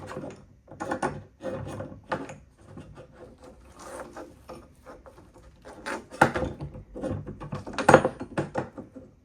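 Small screws twisted in while office shelves are assembled, heard as close, irregular creaks, scrapes and knocks of wood and metal in uneven bursts, with no talk.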